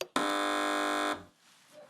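A quiz-show buzzer on a British comedy news panel game sounds one loud, steady, harmonically rich electronic tone for about a second, then cuts off into quiet studio air.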